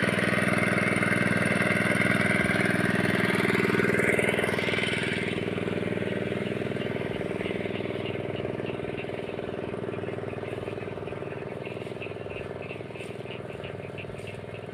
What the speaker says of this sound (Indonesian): Karena sawah saya letaknya agak tinggi, jadi harus nyedot pakai diesel.